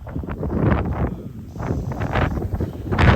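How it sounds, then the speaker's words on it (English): A cold winter gust buffets the microphone outdoors on a downtown Regina street in March, a rough, fluctuating roar of wind noise that swells and dips throughout. "Then you get a blast of wind."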